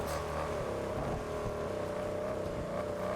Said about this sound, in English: It's a blue Jaguar F-Type on a dirt track as well.